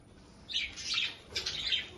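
Small birds in a backyard cage chirp and tweet in two bright bursts of calls, close and fairly quiet, with no talking.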